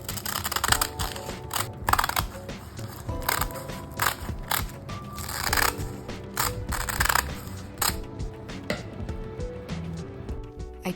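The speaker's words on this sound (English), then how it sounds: "Then I cut the nori sheets into squares." A knife or scissors cuts dry nori sheets into small squares in a kitchen. Close, crisp, irregular snips and crackles repeat throughout with no one speaking.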